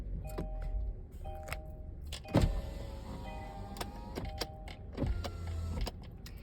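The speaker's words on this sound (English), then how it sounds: "I just got to put my car on, guys, a couple of seconds." A car being switched on: soft clicks and ticks with short electronic chimes and beeps as the vehicle powers up, nearby and moderately loud, with no talking.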